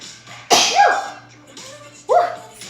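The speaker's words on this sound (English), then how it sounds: "I have to sneeze." Two sharp, loud human sneezes close up, the first followed by a brief vocal tail, then a short pause before the second sneeze.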